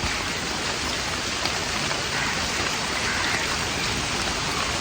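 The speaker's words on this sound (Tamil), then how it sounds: "மழை வந்து ஓவராக பேஞ்சிக்கிட்டு இருக்கு" Heavy rain pours down steadily at home, a dense, even hiss of drops that stays loud and constant throughout with no voices over it.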